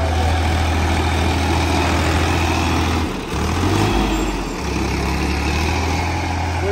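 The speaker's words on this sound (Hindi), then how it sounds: "ट्रैक्टर जो है वो बिल्कुल चल रहा है, बिल्कुल फुर्ती में चल रहा है।" A farm tractor engine runs steadily in a field during sowing, a loud, close, low idling rumble that barely changes throughout, with no voices.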